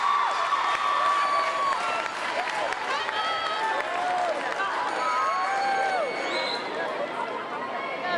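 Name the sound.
graduates applauding their supporters at graduation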